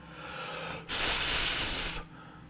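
Steam hisses in one loud, steady burst of about a second, starting and stopping abruptly against quiet background noise.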